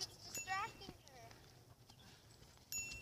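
Horse hooves in a video game clip-clopping in a short quick burst, fairly faint, with people chattering around it.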